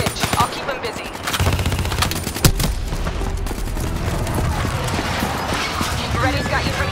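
Gunfire from a Call of Duty Black Ops III firefight, with bursts of automatic weapon fire, sharp shots and clatter running steadily under battlefield noise, plus a loud crack near the middle.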